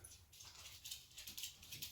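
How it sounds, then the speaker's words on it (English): A dog whimpers softly indoors in a room, faint thin whines repeating in a steady pattern with no speech over them. "sorry about the dog"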